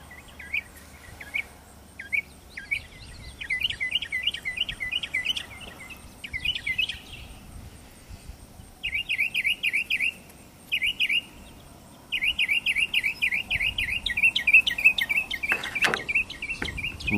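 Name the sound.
mockingbirds singing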